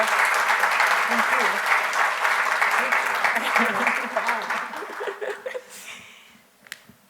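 An audience at a film talk claps together, a full steady round that thins and tapers off toward the end, with a few chuckles and a voice near the close.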